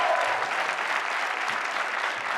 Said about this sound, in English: Let's give her a nice round of applause, huh?